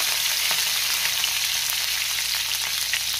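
Steady, bright sizzling of coriander leaves frying in hot oil as a tempering for chutney, continuous and close, with faint crackles and no voices.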